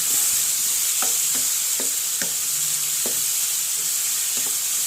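Chopped ginger, garlic and curry leaves sautéing in oil in a village kitchen, with a steady close hissing sizzle and several spaced stirring clicks, no talking.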